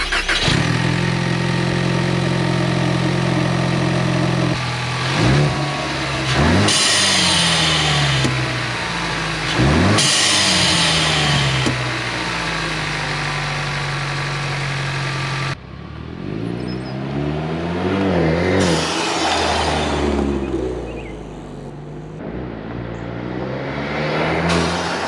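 A Ford EcoBoost car engine with a vent-to-atmosphere blow-off pipe starts, idles, and is revved repeatedly, each rev rising and falling back, with hissing blow-off bursts near the exhaust.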